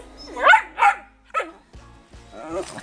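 A dog barks at a Jamaican home during Sunday dinner: three sharp, fairly loud barks in quick succession, followed by softer yips and whimpering sounds, with a voice faintly in the background.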